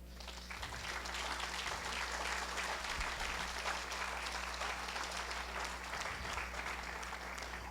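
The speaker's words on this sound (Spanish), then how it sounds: "¿Qué tal sería dar un aplauso al Señor?" A church congregation claps in sustained, even applause that fills the room, steady and dense from start to finish, with no voices standing out.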